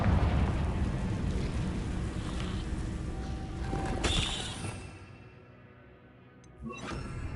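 An explosive Confringo spell bursts in the Hogwarts Legacy game, a loud rumbling blast that swells with a sharp crack near the middle, then trails off into quieter ambience before another hit lands.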